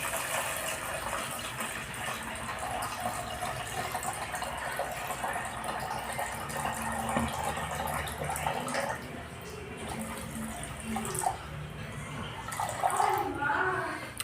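About 750 grams of water is poured while making dishwashing liquid, giving a continuous gushing, splashing rush that stays fairly steady and close for the whole stretch, with a voice faintly present.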